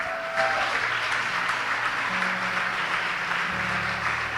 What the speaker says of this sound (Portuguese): agora vamos dar aquela salva de palmas bem forte para esse povo bonito